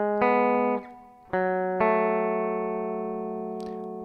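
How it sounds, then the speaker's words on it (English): Electric guitar riff of double stops on the 4th and 3rd strings, a moveable rock chorus-ending lick; three sustained, harmonically rich two-note chords ring out close and clear, the last held and slowly decaying, with no voices. "the chorus ends with this little riff, this double stops on the 4th and 3rd strings"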